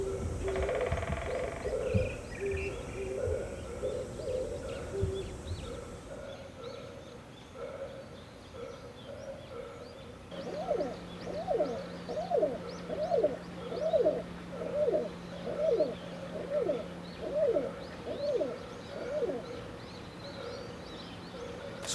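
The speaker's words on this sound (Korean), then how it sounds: "수컷이 구애하는 소리는 먹이를 구하러 나가기 전 잠깐 들을 수 있는 소리입니다" A male hill pigeon, the species with a white tail band, gives its courtship call, a steady series of soft, rhythmic coos repeated about twice a second from close by, after an earlier stretch of mixed bird sound.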